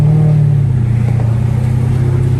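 A Mercedes CL550's engine revs, loud and close, with a steady deep drone that swells briefly before settling back, heard alone with no talk.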